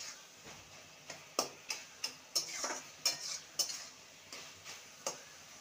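Spatula scrapes and taps rhythmically against a pan while greens and vegetables are stirred, about a dozen distinct metallic strokes over a faint sizzle, close and clear with no talk.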